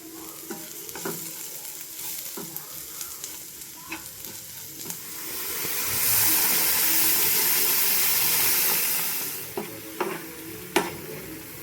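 Crushed ginger, shallots and garlic sauté with chilli masala and coconut milk for a Kerala prawn roast, a close sizzle broken by scattered spoon clatters and a louder bubbling, hissing stretch midway.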